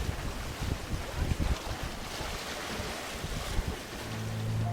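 A sailing yacht runs in steady wind among the Cyclades islands of Greece, with waves washing against the hull and gusty wind buffeting the microphone in a continuous roar.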